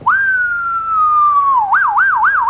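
A voice imitates a police car siren, first with a long falling whistle and then with a rapid wailing warble, loud and close, alone.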